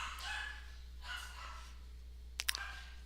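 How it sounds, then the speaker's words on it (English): A pet dog barks indoors in a few separate bursts, fairly faint and distant, with quiet room noise between the barks. "My dog is barking really loud"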